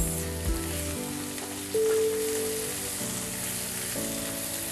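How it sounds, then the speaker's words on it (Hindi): Roughly chopped onion fries in a pan and gets mixed, a steady soft sizzle heard under background music with no one speaking. "और उसी में हम डाल रहे हैं एक बड़ी प्याज काट के, जिसको हमने रफली चॉप कर लिया है। और इसको करेंगे हम अच्छी तरह से मिक्स"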